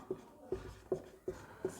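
Chalk taps and scrapes across a classroom board while a maths solution is written out, five short, evenly spaced strokes, close and quiet with no voice over them.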